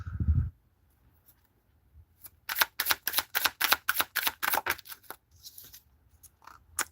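Tarot cards are shuffled in a quick run of crisp riffling bursts, close and clear, after a short pause and a brief bump.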